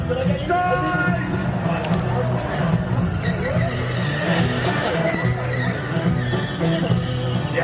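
Cars skid and squeal while driving round in circles at a live motoring show in Birmingham's N.E.C. arena, a steady engine roar and tyre noise under crowd babble and a commentator's voice throughout.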